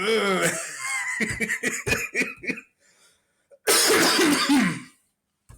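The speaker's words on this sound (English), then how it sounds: "I try to cover my mic when I cough" Someone laughs and talks, then breaks into a short burst of harsh, loud coughing close to the mic, followed by silence.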